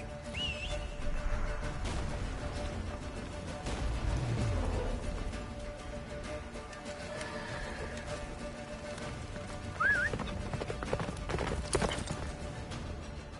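Roach the horse gallops in a video game, a steady clip-clop of hooves running throughout over a busy game soundscape, with brief whistle-like tones and a faint whinny.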